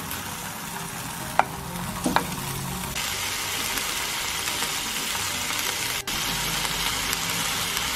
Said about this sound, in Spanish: Lo dejamos que se sofría y le vamos dando la vuelta